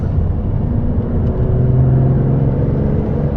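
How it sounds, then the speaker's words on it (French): Lamborghini accelerating hard, a loud, close continuous engine roar with a rising droning tone, no voices over it. "dès que j'ai les roues droites, je peux accélérer franchement"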